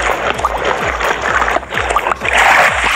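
Water splashing in the video game Minecraft, a continuous watery wash broken by repeated low, gulping thumps at a quick, fairly regular rhythm, loud and close.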